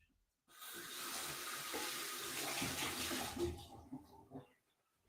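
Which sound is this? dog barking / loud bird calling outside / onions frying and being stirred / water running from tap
water running from tap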